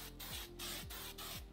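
Provenamite mite spray is pumped onto snake bedding in three quick, faint hissing bursts at a steady rhythm, each with a soft pump click between.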